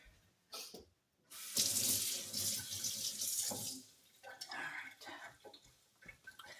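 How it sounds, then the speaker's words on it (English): A spoon is rinsed under a running kitchen tap, with a loud, steady stream of water hitting the sink for a few seconds between quieter splashes and drips. "I went ahead and rinsed that spoon again because I'll need it again later on."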